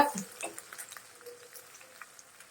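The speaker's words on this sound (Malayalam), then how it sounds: "എണ്ണ ചൂടായി ഇനി ഇതിലോട്ട് കറിവേപ്പില ഇട്ട് കൊടുക്കുന്നു വെളുത്തുള്ളി ഇട്ട് കൊടുക്കുന്നു ഇഞ്ചി ഇട്ട് കൊടുക്കുന്നു" Curry leaves, garlic and ginger dropped into hot oil for a murrel fish roast: a faint, soft sizzle with light crackles and spatters, quiet and uneven, fading after an initial burst.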